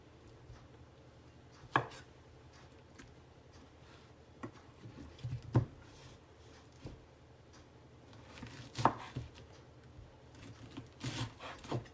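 A knife slices pineapple on a cutting board, producing sparse, close thuds and chops spaced irregularly, with a few louder cuts standing out against a quiet background.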